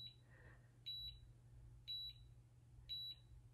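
A cordless curling iron's timer beeps three times at regular one-second intervals, each a short high double chirp, over a quiet low hum.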